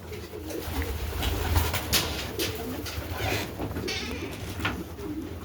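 Several homing pigeons coo softly in overlapping, low, throaty calls, with faint scattered rustling and no talking.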